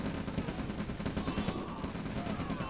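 Rolling artillery and gunfire from an OpenRA Red Alert battle form a dense, continuous barrage of overlapping booms and cracks at steady loudness, with no clear gaps between shots.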